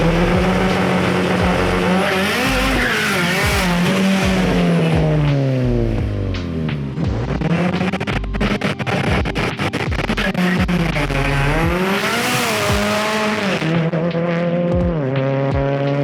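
An Audi S3 does a burnout on a wetted race track, its engine revving hard and repeatedly rising and falling in pitch, with tyre squeal mixed in, loud and close throughout.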